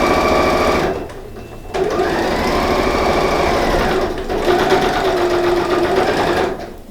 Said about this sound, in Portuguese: Vou costurar a partir dos 2 centímetros que eu marquei.